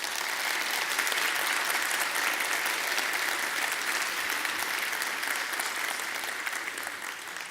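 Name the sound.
audience applause at a conference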